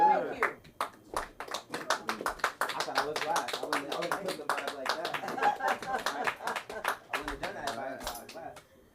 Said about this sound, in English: Clap it for Mosey.